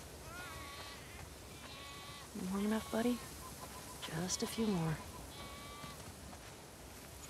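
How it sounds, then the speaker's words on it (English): Sheep bleat on a farm in The Last of Us Part II, two loud wavering bleats close by, while a person speaks softly over a steady ambient bed. "We definitely have way too many sheep."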